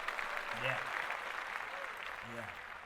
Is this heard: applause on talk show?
yes